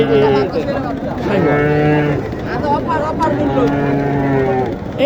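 Cattle at a busy village livestock market in Naogaon low out in repeated long, loud moos one after another, close by, with voices and market noise around them.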